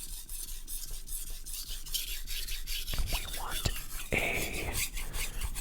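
A knife blade drawn over a sharpening stone in slow rubbing, rasping strokes, close and intimate, with a sharper scraping burst near the end and soft whispering in places.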